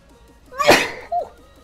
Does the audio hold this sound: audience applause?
no